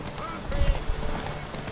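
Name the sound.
white horse running in The Witcher 3 video game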